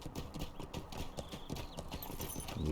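Horse hooves in the game Slotro clip-clopping in a quick, steady rhythm at close range, with faint tones and effects layered over the trotting.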